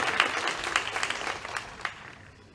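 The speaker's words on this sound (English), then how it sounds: "Y'all give them a round of applause." An athletic awards ceremony crowd gives a round of applause, clapping that starts full and slowly thins out, with a few distinct individual claps standing out near the end.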